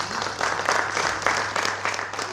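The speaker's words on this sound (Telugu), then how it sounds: "కొంచెం గట్టిగా క్లాప్స్ కొట్టండి" At an awards ceremony at a national consumer rights commission review meeting, a hall audience claps steadily in a fairly faint, continuous patter of many hands that rises and falls slightly before fading out.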